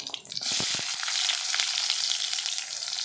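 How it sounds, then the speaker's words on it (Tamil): Chopped onions hitting hot oil in a pan for Karaikudi-style crab curry, a few sharp clatters as they drop in, then a loud, steady sizzle that fills the rest of the moment with no talking. "இப்போ வந்து வெங்காயம் சேர்த்துக்கலாம்"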